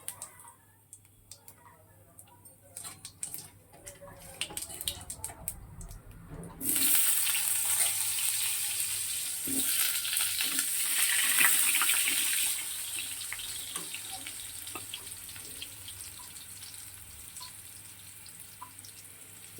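White cumin seeds are tempered in hot oil in a home kitchen, giving a loud, steady sizzle that swells suddenly and then settles to a softer crackle, close by and without talk.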